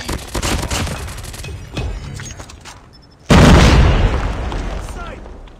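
A grenade explosion in a combat shooting game, a sudden loud boom that rolls off slowly, following bursts of rapid gunfire and shouted voices.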